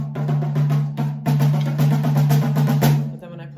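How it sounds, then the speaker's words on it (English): A snare drum is struck near the rim in a quick, steady run of strokes, close and fairly loud, with a sustained ring throughout and little snare buzz. "You notice you lose your snare a little bit when you get to the rim."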